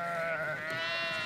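A sheep from a migrating flock in Oltenia gives one long, loud, close bleat with a wavering tone, alone without talk.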